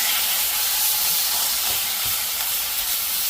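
A pork ribeye steak sizzling hard in a hot pan just after being flipped, a loud, steady, bright hiss of frying that fills the whole stretch without a break.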